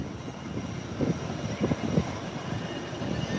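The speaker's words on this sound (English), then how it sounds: "And there you have United heading down the runway." A United airliner rolling down the runway for takeoff sends a low, distant engine rumble that swells and wavers under a constant broad hiss of wind and background noise.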